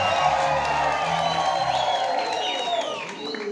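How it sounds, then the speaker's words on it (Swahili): Applause and high trilling ululation from a congregation at a Catholic thanksgiving mass in Wasa Mafinga parish: a dense, steady burst of clapping and cheering, fairly close, with warbling ululations rising over it. "Makofi na vigelegele."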